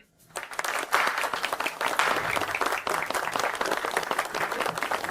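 An audience breaks into loud, sustained applause for company founders at an event, dense clapping that swells quickly and continues steadily.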